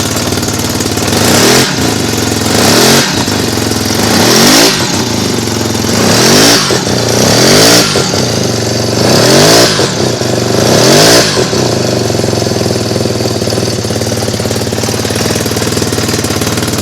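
A Wankel rotary motorcycle engine runs steadily and close by, its loud continuous drone broken by regular throbbing pulses roughly every one and a half seconds, with no voices.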